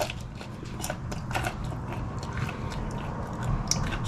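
Crunchy bites and chewing of a crispy whole wheat pizza crust, a close run of crackling snaps and crunches over a steady low background.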